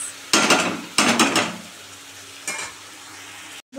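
Fish head and pumpkin fry in a pan, with a steady low sizzle broken by a few sharp bursts of stirring and scraping, fairly close, with no voices.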